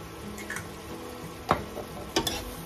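Broccoli and mushrooms stirred with oyster sauce in a pan over a low sizzle, with a couple of distinct scraping knocks from the utensil against the pan.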